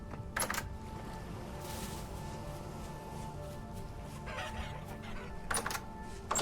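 Chickens in the survival game Vintage Story cluck in a flock, with a few short, sharp bursts standing out over a faint, steady background and no talking.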